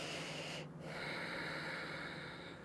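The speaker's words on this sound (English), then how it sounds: "Make sure you get that nice constriction in the back of the throat, the ujjayi breathing." A yoga practitioner draws a slow, audible breath through a narrowed throat, a soft hissing rush with a brief pause near the start, close and quiet against a faint background hum.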